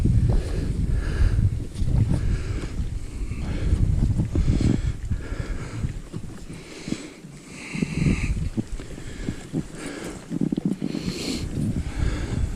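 Fishing boat trolling on open water, a continuous engine rumble mixed with heavy wind buffeting against the microphone, steady throughout with no clear speech.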